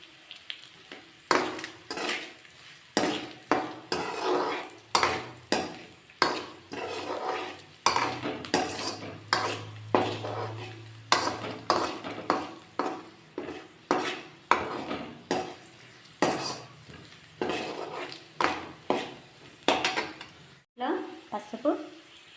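Tempering seeds and curry leaves fry in a pan for fenugreek leaves and potato stir-fry, with a faint sizzle under repeated loud metallic scrapes and clinks of a spatula stirring against the pan.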